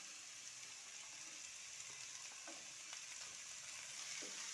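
Chopped cabbage and onion frying in a pan as filling for chicken vegetable momos, giving a faint, steady sizzle with a few soft stirring ticks and no talk.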